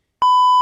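A single censor bleep, a pure steady electronic tone lasting under half a second, loud and alone.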